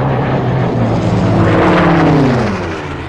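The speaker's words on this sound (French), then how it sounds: "William Overstreet, un pilote de chasse américain, aux commandes de son P-51 Mustang, passe sous les arches de la tour pour traquer un chasseur allemand" A P-51 Mustang fighter plane passes beneath the arches of the Eiffel Tower, its loud propeller-engine drone swelling and shifting pitch as it sweeps by close, then easing slightly at the end.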